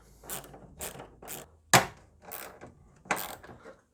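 A wrench turns the headlight mounting nut on a Mercedes W220, with a series of short ratcheting clicks coming in separate bursts and one sharper metallic snap in the middle, close and fairly quiet.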